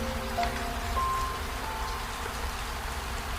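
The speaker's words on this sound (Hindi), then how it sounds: "बारिश की आवाज" Steady rain falls at night on a poor village home with a broken, leaking roof, a soft, even hiss heard faintly and alone.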